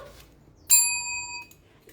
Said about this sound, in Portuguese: quando eu toco o sino